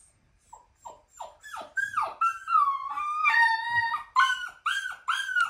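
A puppy whines in a run of rising, squeaky cries that grow longer and more insistent, close by and alone without talk.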